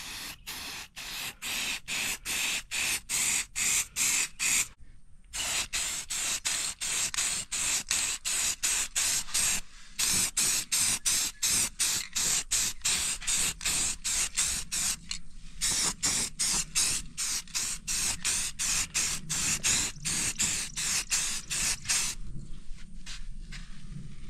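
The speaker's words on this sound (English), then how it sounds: "I'm just going to rattle can spray some primer, get the metal back protected" Short bursts from a rattle can of spray primer on bare metal of a 100+ year old tractor, dozens of rapid, evenly spaced loud hisses with brief gaps, close and steady throughout, no talking.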